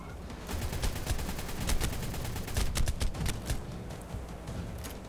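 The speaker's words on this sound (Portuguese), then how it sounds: "Eu tô atirando." Rapid automatic gunfire from shooting in the video game Ark: Survival Evolved, dense bursts of shots rattling continuously for several seconds at steady loudness.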